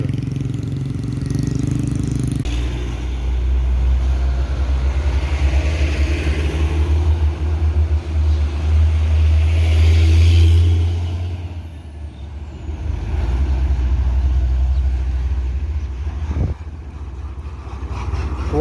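A One Trans intercity bus on an Indonesian road passes with a loud, deep engine rumble that swells and fades, with a sharp hiss of released air near the end, heard close by.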